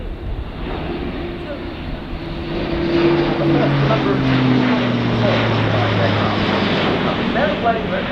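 An Airbus A400M military transport with four Europrop TP400 turboprops of about 11,000 horsepower each, flying past at roughly 500 feet and 160 to 180 knots at an air show, a loud droning propeller roar with falling pitch as it passes.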